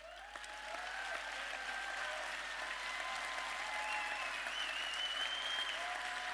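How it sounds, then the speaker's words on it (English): Applause at the Super League rugby league awards: after a quiet beat the room erupts into sustained clapping from a large audience that holds steady and fairly distant for several seconds, with faint crowd murmur beneath and no speech over it. "please stand and take a round of applause"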